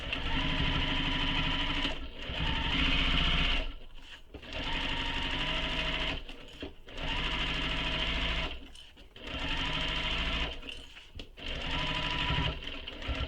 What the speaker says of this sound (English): I like to backstitch just for extra security.